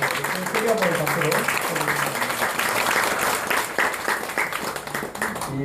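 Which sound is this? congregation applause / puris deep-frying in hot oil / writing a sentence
congregation applause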